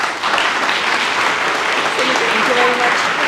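An audience in a theatre hall applauds after a pitch, loud and continuous clapping from a large crowd that holds steady throughout, with a faint voice briefly audible near the end.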